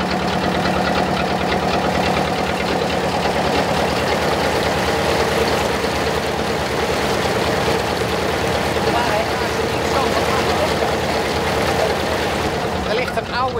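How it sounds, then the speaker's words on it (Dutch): An old Slavia two-cylinder 22 hp diesel engine powers a 1950s tour boat, thumping in a steady, loud, close idle rhythm that runs unbroken the whole time. "Tweecilinder dieselmotor in te stampen. Oude Slavia diesel. 22 pk."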